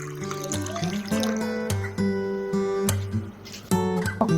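Warm water pours steadily into a container for a weight-loss powder drink, a continuous filling trickle with no one speaking.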